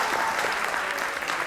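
A dense, steady burst of audience applause at a live Urdu poetry show, many hands clapping together at an even level throughout, with no talking over it.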